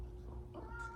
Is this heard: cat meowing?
yes